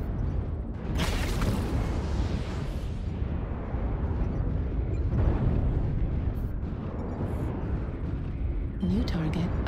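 Artillery strike explosions in a video game, a continuous dense rumbling roar of blasts with heavy low-end boom, rising and falling over several seconds while a voice speaks over it.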